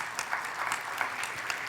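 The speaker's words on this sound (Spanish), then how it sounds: "Denle un fuerte aplauso al Señor." Congregation applauding the Lord during a church service, a quiet, steady patter of clapping hands with no talk over it.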